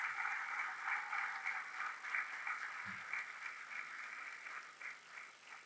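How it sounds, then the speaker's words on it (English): A school annual day audience applauds student performers from grades 3 to 5, a faint, distant, steady wash of clapping that swells and fades slightly over several seconds. "I think they deserve a huge round of applause."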